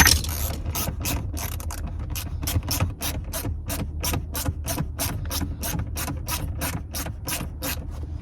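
Ratchet wrench clicking rapidly and evenly while tightening rear seatbelt bolts inside a Mercedes CL500 W215, a long run of crisp, close, regular clicks with no talking.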